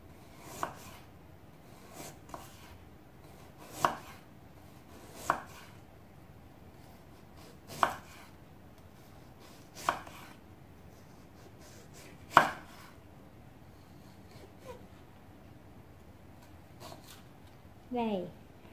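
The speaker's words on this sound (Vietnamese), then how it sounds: "bây giờ mình sẽ cắt cái phần gừng này" Knife slices thin pieces of fresh ginger on a cutting board while sweet ginger candy is being made, giving about nine sharp, evenly spaced chopping taps a couple of seconds apart.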